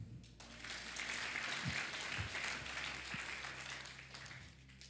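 A church congregation at a revival service breaks into sustained applause, a dense wash of many hands clapping that holds steady for several seconds and fades slightly at the end.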